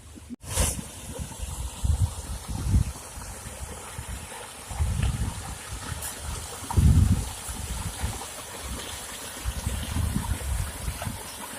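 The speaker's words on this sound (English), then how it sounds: "Natural spring water. Natural water." Natural mineral spring water flowing outdoors beside an old Spanish water wheel at Nutts River, St Thomas, a steady low gurgling stream with intermittent louder swells, heard alone.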